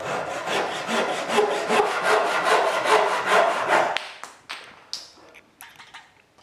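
A Takagi Shark Saw 225 fine-toothed hand saw cuts teak with steady, rasping back-and-forth strokes, close and loud, then slows into a few scattered scrapes and taps as the cut ends.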